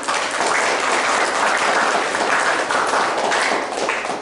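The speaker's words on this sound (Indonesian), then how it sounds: "Beri tepuk tangan dulu semuanya." An audience at an Indonesian youth leadership training session claps together, a dense, sustained burst of applause that stays loud and even for the whole stretch, close and without talk.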